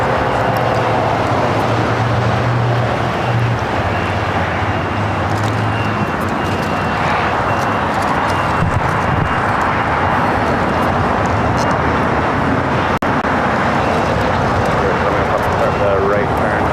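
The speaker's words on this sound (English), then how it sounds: "SR-22 taking off to Las Vegas Henderson Executive Airport." A Cirrus SR-22 at LAX roars steadily while taking off, a broad engine drone mixed with airport rumble that continues throughout under frequent voices.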